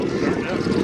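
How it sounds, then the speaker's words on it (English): Lycoming nine-cylinder radial aircraft engine of 300 horsepower and 680 cubic inches running loudly at an airshow, a brief dense rumbling roar. "That's a Lycoming 300 horsepower engine with 680 cubic inch engines"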